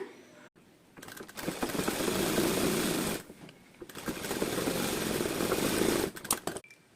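A sewing machine stitches a blouse back knot in two loud, fast bursts of whirring stitching separated by a short pause, with a few light handling clicks before and after.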